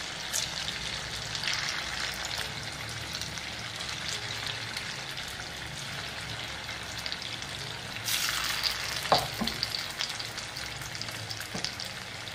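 Potato and rice bhaji batter fries in hot oil on a medium flame, a steady close sizzle with brief bubbling bursts and clinks, no voices.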